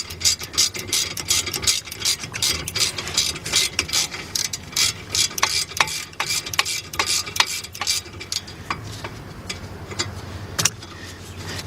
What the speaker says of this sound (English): And I got my little 3/8 drive swivel ratchet. Let's pop that loose.